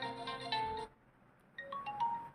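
Ringtone playing on a Vivo T2 5G phone, a soft melodic electronic tune in two short phrases separated by a brief pause, fairly quiet and with no talking.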